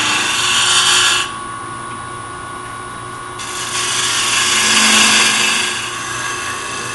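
A wood lathe turns down a walnut base for a segmented hollow vessel, the cut moving from cross grain into end grain. A continuous high whirring drone shifts in tone as the tool bites, then eases, with no talk.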